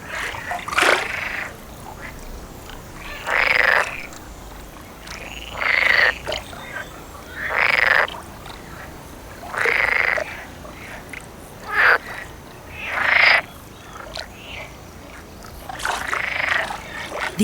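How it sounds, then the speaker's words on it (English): Frogs croaking in a nighttime forest chorus, with loud bursts of calls repeating every couple of seconds over a steady hum of insects or distant calling. "The chorus of croaking calls occurs mainly at dusk or at night"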